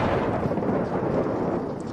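Deep thunder rumbles through a storm, a loud, continuous low roll that swells and fades slightly over two seconds.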